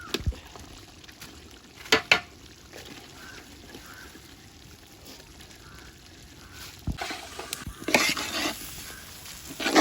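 Rice for mutton biryani being roasted and stirred in a hot pan, a steady close scraping and gentle sizzle with a few louder clanks of the spoon against the pan and busier stirring near the end.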